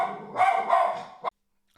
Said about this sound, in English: I imagine regardless of how good my microphone is, you absolutely heard my dog howling